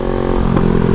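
A Kawasaki motorcycle engine roars loud and close, a steady, strong exhaust note with slight rising revs and some clatter throughout the short burst.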